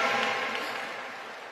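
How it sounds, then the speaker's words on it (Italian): Concert audience applause at a large stadium show at San Siro, a broad, steady wash of clapping that is loud at first and tapers slightly over a second and a half, heard alone with no voices. "un po' smorto questo applauso."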